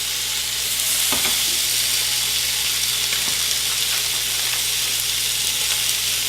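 Bacon slices frying in a warmed skillet, a dense steady sizzle with a few faint clinks, close and continuous with no talk.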